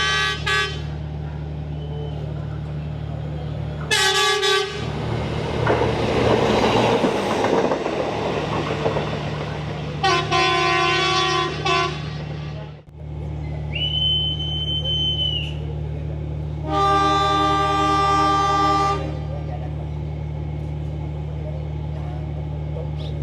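A train rumbles past with several loud horn blasts, long tones separated by pauses, with steady engine noise underneath throughout.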